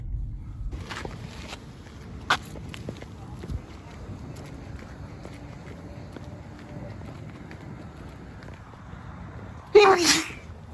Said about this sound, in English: Moped sneeze.